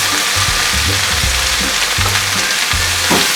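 Spinach sautéing in a pan alongside a sweet and sour fish fillet meal, a loud, close, hissing sizzle throughout with occasional stirring scrapes and clinks.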